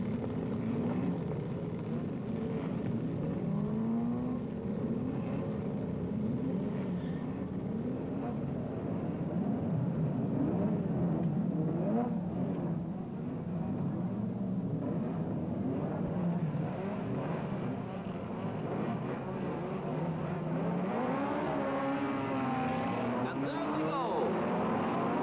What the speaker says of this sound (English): 27 cars, a record entry, are ready to start the first of 2 heats